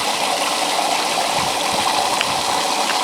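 Pumped water rushes steadily through a gold sluice box loaded with sand, a close, loud, continuous gush with no voices.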